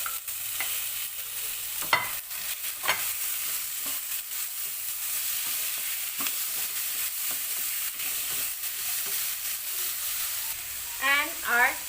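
Tomato chunks go into a frying pan for butter chicken, bringing a steady hiss of sizzling oil with repeated sharp clatters of a spoon stirring against the pan. A voice speaks briefly near the end.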